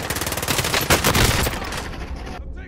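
Rapid automatic gunfire in a Call of Duty: Modern Warfare match, dense bursts of shots loud and close, tapering off toward the end.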